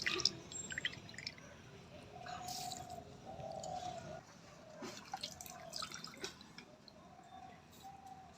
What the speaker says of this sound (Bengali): এবার আমি চালটাকে ভালো করে জল থেকে তুলে নেব, জলটা ঝরানোর জন্য।